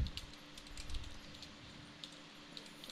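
Typing on a computer keyboard: light, irregular clicks of keys tapped at a moderate pace, fairly faint against a steady low hum, with no voices.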